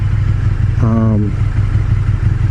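A KTM 1290 Super Duke GT motorcycle engine idles with a steady, loud low rumble throughout, and a short voice-like tone rises briefly over it.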